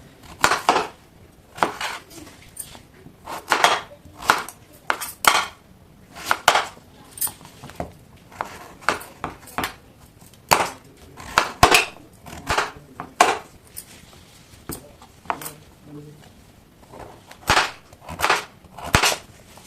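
A knife chops a pumpkin into pieces on a hard surface, sharp repeated cracking strikes in an irregular rhythm, close and crisp, with short pauses between bursts.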